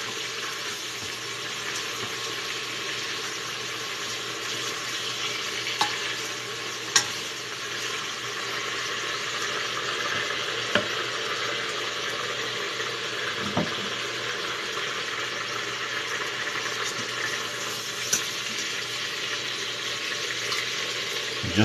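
Beef browning in a Crockpot Express hisses and sizzles steadily and fairly loudly, broken by a few sharp clicks and taps. No one speaks.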